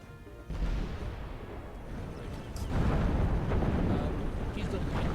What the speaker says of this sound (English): These cannons.